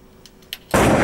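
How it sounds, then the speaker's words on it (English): A gunshot sound effect cue erupts as one loud, sudden broadband blast after a quiet stretch with a few faint clicks, and it sustains to the end. "So play me the gunshots you have, because we gotta find a gunshot here."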